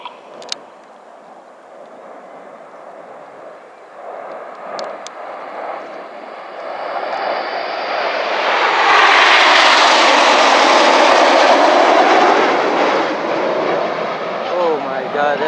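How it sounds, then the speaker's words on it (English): An RAF Eurofighter Typhoon combat jet flies past at an air display at Epsom College, its roar building from a distant rumble to a loud, close, sweeping peak and then fading slightly, with a brief voice early on. "It's the Royal Air Force's multi-role combat aircraft, a very capable aeroplane. It's the Eurofighter Typhoon."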